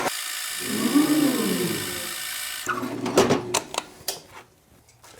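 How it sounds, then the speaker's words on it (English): A power drill whirs up and bogs down as it bites into cherry wood, then gives way to clunks and handling noises. "I'm just going to hold it and drill a hole."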